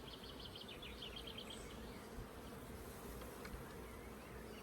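Honey bees buzzing around an open hive during a brood frame inspection, a steady dense hum close to the microphone with no talking.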